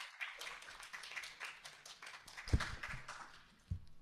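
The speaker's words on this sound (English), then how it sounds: "Let's give our panelists a loud applause." Audience applause at a JCCI 2025 Green Stage panel session on next actions toward a plastics treaty: steady, fairly faint clapping from many hands throughout, with a couple of sharper, closer claps standing out near the end.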